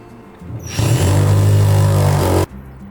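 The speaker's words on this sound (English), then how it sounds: "Use an impact drill with a 3/8-inch drill bit to create the holes" An impact drill with a 3/8-inch bit whines up and grinds loudly for under two seconds, then stops abruptly, with a faint hum before and after.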